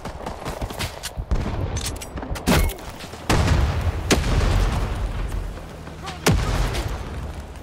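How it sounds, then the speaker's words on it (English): Grenades and gunfire in Rising Storm 2: Vietnam. Several sharp blasts and booms burst out at irregular intervals over a constant rumbling battle din, near and loud, with no speech. "I hear grenades everywhere."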